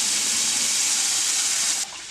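Rinse water from a mixer jar pours steadily into a pan of pineapple curry, a loud continuous splashing stream that cuts off abruptly near the end.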